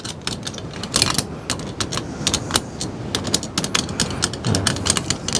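A screwdriver unscrews the bolts of an electrical installation cover, heard as dense clicking and scraping metal ticks with a ratchet-like quality, steady and close throughout, with no voices.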